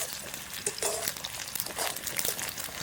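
Raw jackfruit chips fry in hot oil, a dense, continuous crackling sizzle with scattered pops, close and steady throughout.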